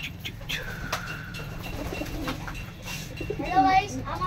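Desi pigeons cooing in a loft, soft low coos mixed with background chatter and bird sounds, with a voice talking over them.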